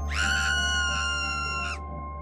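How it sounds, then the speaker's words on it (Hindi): One piercing, sustained scream echoes from inside a mansion in a Hindi horror story, high and tonal, lasting under two seconds before cutting off over a low background hum. "हवेली के भीतर से एक दिल दहला देने वाली चीख गूंजी।"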